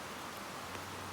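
Heavy first rain of the season falls in Kochi as a dense, steady hiss of broadband noise with no breaks. It is faint overall and no voices are heard.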